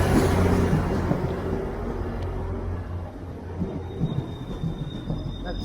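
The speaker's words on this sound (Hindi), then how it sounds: "ये हमारी ट्रेन है जो कि हमें मेट्रो के साथ कनेक्ट करेगी।" A double-track commuter train in Toronto rumbles steadily nearby, a low continuous roar with faint rattling and a thin high whine, fading slightly midway and holding without speech.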